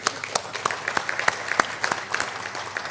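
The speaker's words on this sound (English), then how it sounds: "A great round of applause for all of you." An audience in a formal conclave hall claps for about three seconds. The applause is scattered but steady and moderately close, with no voices over it.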